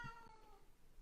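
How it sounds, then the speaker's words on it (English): A pet cat meows in the background, a short single call with a drawn-out tonal wail, faint and alone with no talking. "you can hear my cat in the background."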